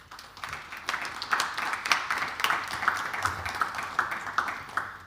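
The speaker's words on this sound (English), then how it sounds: "Another round of applause" A conference audience at a paper session on animation and performance applauds, a moderate, steady patter of many hands clapping at a middle distance for about five seconds.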